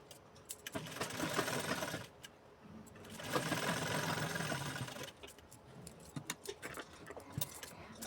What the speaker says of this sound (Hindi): पक्की सिलाई के लिए मैं इसके ऊपर दोबारा सिलाई लगा रही हूँ